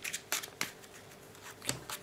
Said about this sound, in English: I'm going to power shuffle real fast.